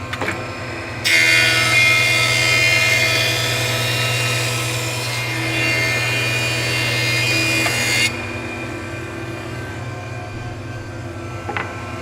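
Thickness planer feeding a wood board through its cutterhead, a loud steady high-pitched roar of planing lasting about seven seconds over the machine's constant motor hum, then dropping back to the idling motor alone.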